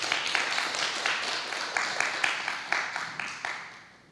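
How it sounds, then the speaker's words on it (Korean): Applause from a church congregation for the fathers during a Sunday worship service: a steady wash of many hands clapping together in a room, with small accents recurring throughout and fading away at the end. "옆에 계시는 아빠들에게 우리 격려의 박수 한번 쳐드리십시다"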